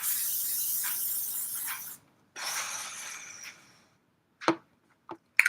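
Two long hissing sprays of makeup setting mist onto a face, close and fairly loud, separated by a short gap, followed by a few sharp clicks and taps.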